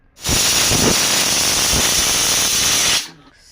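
A pressure cooker with beef cooking inside lets out a loud, steady hiss of steam for about three seconds, then cuts off abruptly.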